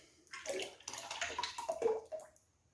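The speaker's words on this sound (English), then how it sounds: "Any stuff that's left in the can, just give it a rinse in there." Water sloshes and gurgles as leftover syrup is rinsed from a can into a jar, a short, close, splashy pour that swells and fades over under three seconds.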